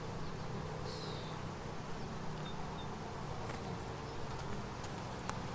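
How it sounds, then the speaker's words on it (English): Agitated honeybees swarm around an open hive, making a steady, close, unbroken buzzing drone that holds at an even level throughout, with no voices. "this hive is starting to get just a little bit agitated"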